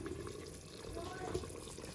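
A chicken madras curry simmers in a pan after about forty minutes of gentle cooking, giving a steady, close, liquid bubbling and sputtering that runs unbroken throughout.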